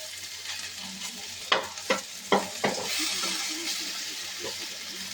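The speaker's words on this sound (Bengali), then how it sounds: "আলুগুলো প্রায় ভাজা হয়ে এসেছে।" Steady sizzle of potatoes and chhena frying in a pan, broken by a few sharp scraping stirs near the start, with the hiss continuing throughout.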